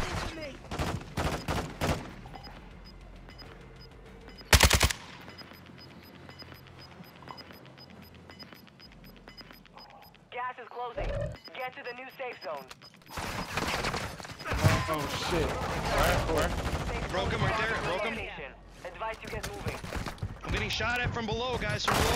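Bursts of gunfire ring out during a Call of Duty: Modern Warfare II match, with sharp shots and rapid volleys scattered through the clip under and between excited players' voices.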